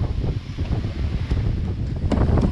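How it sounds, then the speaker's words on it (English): Wind gusts across the microphone beside the ocean on Guam, a loud continuous buffeting roar with low rumble and brief surging bursts throughout. "Oh, that wind's picking up."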